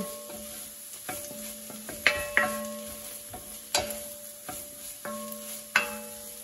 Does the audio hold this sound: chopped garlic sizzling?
yes